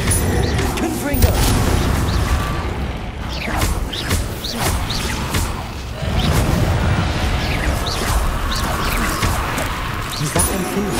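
Confringo blasting curses go off in the Hogwarts Legacy video game, a dense run of booms, crashes and whooshes in busy combat, with voices speaking over the action.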